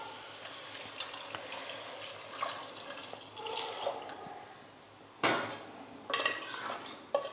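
Water is poured into a pressure cooker holding potato and pea kurma, with soft splashing and trickling among clinks of metal pots and utensils, then a few louder clangs.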